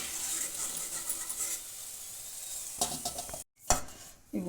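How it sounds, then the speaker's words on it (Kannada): Moong dal and wheat flour snack dough frying in oil over a medium flame: steady soft sizzling with occasional stirring and scraping of a utensil in the pan, plus brief clinks near the end. "ನಿಧಾನ ಊರಿನಲ್ಲಿ, ಮೀಡಿಯಮ್ ಊರಿನಲ್ಲಿ ಕರಿಬೇಕಾಗತ್ತೆ"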